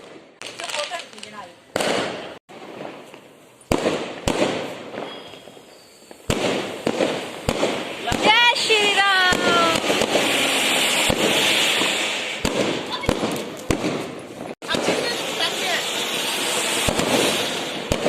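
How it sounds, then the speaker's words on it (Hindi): Diwali fireworks and firecrackers set off from a rooftop, a dense run of sharp bangs, crackles and whistling rockets going off repeatedly over steady background noise, with people talking now and then. "तो बस वो देखिए आतिशबाजी शुरू भी हो गई है"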